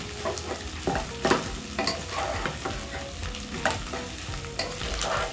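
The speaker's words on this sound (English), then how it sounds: "Then I'll give it a stir." Pork wet fry stirred in a pan with black pepper, sizzling steadily while a utensil scrapes and clatters in irregular strokes, close and alone.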